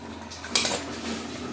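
Metal utensil scrapes and clinks in a pan as fried prawns are stirred into a pumpkin and potato curry, a short soft clatter heard alone.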